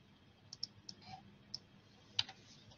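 Sparse, faint clicks from a computer keyboard and mouse as values are typed into a 2D sketch in Inventor CAD software, a handful of separate taps spread unevenly, one sharper click near the end.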